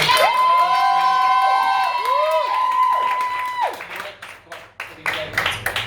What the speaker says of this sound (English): One more final round of applause for Neptune and Sarah Evervain.